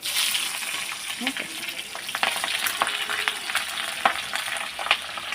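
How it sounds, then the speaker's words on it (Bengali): Food fries lightly in a pan for chicken do-pyaza, a constant close sizzle dotted with sharp pops and occasional stirring scrapes. "এটাও একটু ভেজে নেবো হালকা করে"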